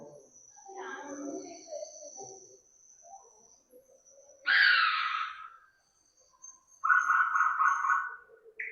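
Recorded frog and amphibian calls played at a nature exhibit at the Konni ecotourism centre. Separate croaking and trilling bursts stand out against a quiet background, with a faint steady tone running underneath.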